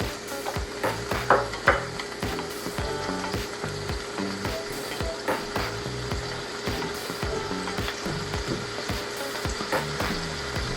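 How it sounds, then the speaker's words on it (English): Sweet peppers with purple onions sautéing in a pan for a Thai tofu curry, a steady close sizzle with scattered scraping and clacking from a utensil, no talking. "Gonna have that sauteed for a little bit."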